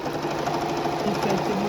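A sewing machine stitches binding onto a quilt, a steady rapid needle chatter running close and continuous throughout.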